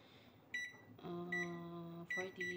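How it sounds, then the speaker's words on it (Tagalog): A microwave oven, set for forty seconds to melt ingredients for a cheesecake, starts with beeps from its keypad, then runs with a steady humming drone, followed by more beeps, close by. "Ilalagay ko na siya sa microwave kasi para mag-melt siya."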